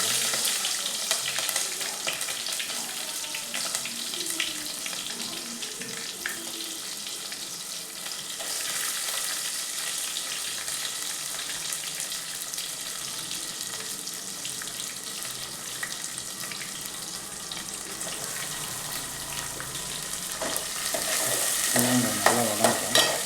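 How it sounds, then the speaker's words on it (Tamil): Small onions sautéing in hot oil with curry leaves for a fish curry, a steady close sizzle and crackle running throughout, with occasional stirring scrapes and a slight rise in intensity near the end. "நல்லா வதங்கட்டும்."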